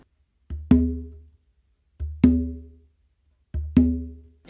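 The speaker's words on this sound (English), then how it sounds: "what we're actually going to do is a ghost note with my non-dominant hand and then an open with our dominant hand" On a bongo, a soft ghost note from the non-dominant hand is followed by a loud, ringing open tone from the dominant hand, with the pair repeated three times at an even pace.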